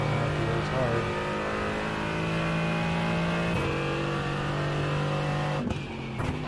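A GT race car engine in iRacing at Brands Hatch drones loudly and continuously, the revs climbing and dropping through gear changes, with a voice talking over it throughout.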